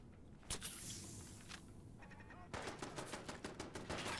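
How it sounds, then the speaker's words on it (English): Automatic turret fire in the video game Fallout 4, a sharp burst early on followed by a denser stretch of rapid shots toward the end, moderately loud amid game noise. "Oh, that's a turret."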